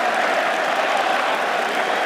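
Cricket crowd applauding at an Edgbaston test match, a dense, steady wash of clapping and crowd noise filling the stadium, loud and continuous throughout.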